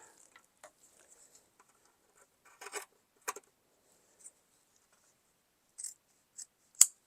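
Scissors snip through fabric for a tote bag in a few sparse, quiet cuts separated by silence, with light rustling between snips.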